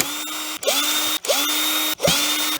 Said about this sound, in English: Now there's a heap of screws on the end, so we might as well just take them all out